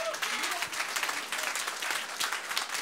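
A church congregation at a French-language worship service claps together in dense, sustained applause that fills the room evenly for several seconds.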